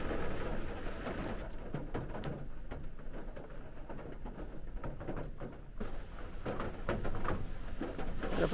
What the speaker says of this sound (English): Chucking it down.